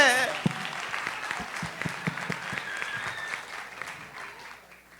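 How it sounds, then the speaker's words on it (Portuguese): Audience clapping at the opening of the 22nd Kizomba event in Brazil, a steady crowd applause with a few sharper claps standing out, gradually tapering off, a voice briefly heard at the start. "Uma salva de palmas"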